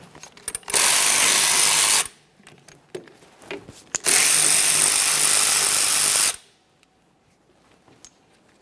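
A power tool spins a 14mm socket to loosen a rear brake caliper slider mounting bolt on a 2010-2013 Kia Forte Koup, giving two loud sustained whirring bursts of a second or two each before quiet returns.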